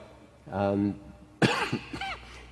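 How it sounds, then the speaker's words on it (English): A sharp cough bursts out after a moment of low voiced sound, followed by a few short throaty sounds, close to the microphone. "Excuse me, I've got a slight cough."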